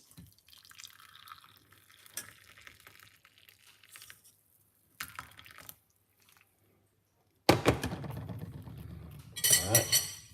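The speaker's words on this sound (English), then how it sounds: "pour it off like this" Banaba leaf tea being poured off, a bright liquid splash and trickle with clinks of a pot or cup, arriving loud after scattered quieter drips and handling noises.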